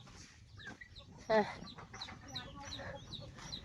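Chickens cluck around a rural Thai farmyard, giving short scattered calls at close range along with one sharper squawk, while someone talks briefly in the background.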